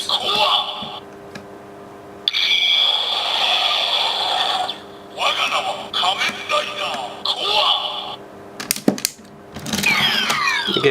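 A DX Gaia Memory toy plays electronic sound effects and announcements in bursts with buzzy, synthetic tones and clicks of the memory being handled and inserted; close, moderately loud, with several separate sound bursts.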